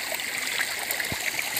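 A stream flows on a hillside tomato farm, a steady close rush and trickle of water with a soft gurgle partway through.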